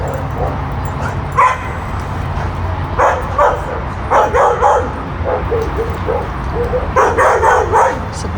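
Several dogs bark and yip in short bursts, fairly close, one sounding nervous and whimpering, with some shuffling and background noise between the barks.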